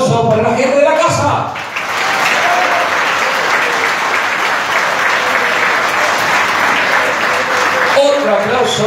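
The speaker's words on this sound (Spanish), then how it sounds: "quiero pedir un fuerte aplauso para la gente de la casa." An opera show audience breaks into loud, sustained applause that fills several seconds, with a voice briefly audible at the start and end.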